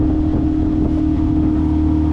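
A 24-foot North River boat drones steadily on its outboard kicker motor, a close, continuous low hum with wind buffeting the microphone.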